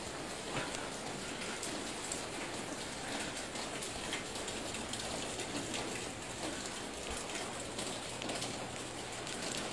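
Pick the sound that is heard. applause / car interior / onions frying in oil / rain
rain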